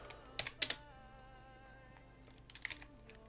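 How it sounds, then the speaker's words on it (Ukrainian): Keystrokes on a computer keyboard while entering commands in a Linux terminal on MX Linux, a few quick clusters of clicks near the start and another short burst near the end, close and fairly quiet with no talking. "Ось щось ми пишемо."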